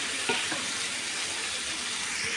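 A pan of tempering for chickpea guggillu sizzles and fries steadily, a dense continuous hiss with faint stirring clicks, close by with no talk.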